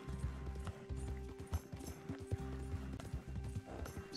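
Horse hooves clip-clop at a walking rhythm in the Red Dead Redemption 2 video game, moderately close, with soft ambient outdoor sounds underneath and no talking.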